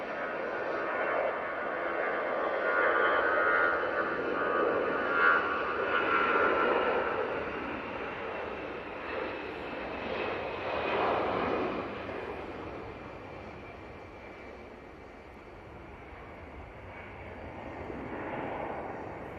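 A passenger jet rolls for takeoff on runway 05 left at Manchester Airport, a distant broad engine roar swelling and fading in waves over nearly twenty seconds, with no speech.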